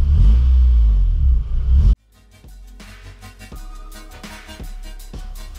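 Honda engine fitted with new exhaust headers, a loud close rumble cutting off abruptly, then a lighter clattering idle with short rev blips, no talk.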